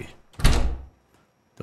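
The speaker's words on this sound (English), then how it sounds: "Door's still locked." A locked door in the Suite 776 horror video game is tried and gives one heavy, close rattling thud that dies away into silence, followed by a faint knock at the very end.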